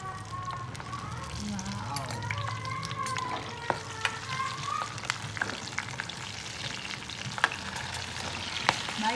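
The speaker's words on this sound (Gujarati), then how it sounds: "હવે મરચાં નાખવાનું છે" Stuffed red chillies fry in a pan with a steady sizzle and occasional stirring clatter, while a person talks over the cooking throughout.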